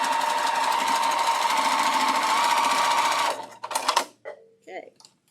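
Sewing machine stitching a quilt block, a fast steady mechanical whir running for over three seconds, then stopping into a few short bursts and quiet handling sounds.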